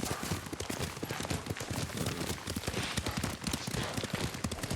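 Horse hooves clop steadily at a riding pace in Ghost of Tsushima, with close, rhythmic thuds running the whole time over a dense game soundscape.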